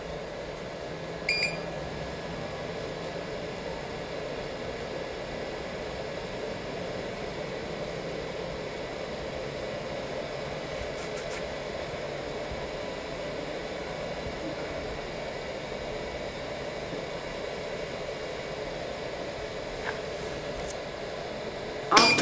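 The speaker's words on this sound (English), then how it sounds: "Cover the machine and press vacuum." A 3D vacuum sublimation press for phone covers runs its vacuum pump, giving a steady, even whirring drone for the whole stretch, with a short beep near the start and a click at the very end.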